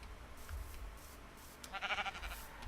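Sheep bleating in Minecraft, several short wavering cries grouped near the end over a faint background hum, fairly quiet and close.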